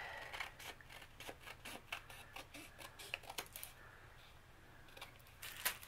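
Scissors snip through a homemade paper gift tag in quick, rhythmic close-up cuts, a dozen or more crisp clicks in a row against a quiet background.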